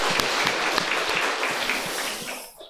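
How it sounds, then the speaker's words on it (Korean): A church congregation clapping during a Sunday service, a brisk burst of many hands applauding together at close range, holding steady for a couple of seconds before quickly fading out. "박수 한번 하겠습니다"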